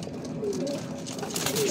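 Fancy pigeons kept by a fancier coo softly in their loft, low rolling calls repeating under faint background noise.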